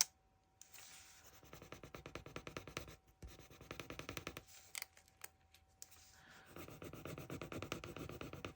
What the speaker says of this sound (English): once I go back over it again and rub, now it's adhering pretty good.